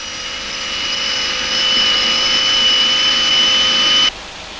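A 1966 ČKD 1,800-horsepower diesel locomotive engine climbs to its maximum of 3,000 RPM on a test stand, a loud steady roar with high tonal whine that rises slightly in pitch before cutting down abruptly near the end.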